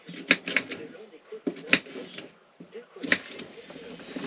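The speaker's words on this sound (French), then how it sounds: "Oh bah moi les légumes je les coupe grosso merdo hein" A knife chops vegetables roughly on a board in a van kitchen, a few sharp, irregular knocks spaced over several seconds, close by, with a person talking between the cuts.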